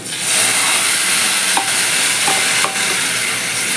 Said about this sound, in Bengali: ভালো করে মিশিয়ে নিলাম চাল কুমড়োর সাথে